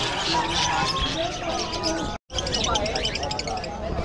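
Many birds at a pet market bird shop chirp and tweet at once in a dense, busy chorus with some cooing, close and loud, briefly cut off before resuming.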